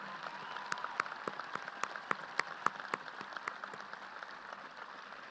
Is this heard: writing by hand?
no